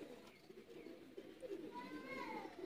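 Teddy pigeons at a breeder's loft in Sialkot coo softly and repeatedly at close range, with a brief higher chirping call rising near the end.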